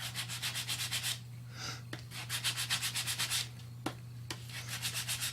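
A sanding block rubbed back and forth over a metal piece to accent its raised portion, close, rhythmic scraping strokes in bursts separated by brief pauses and a couple of sharp taps.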